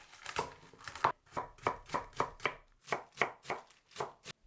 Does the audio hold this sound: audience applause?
no